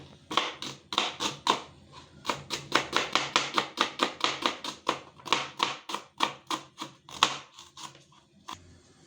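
Steady, fast chopping of onion with a knife on a board, close-up, a dense run of crisp taps with a few brief breaks.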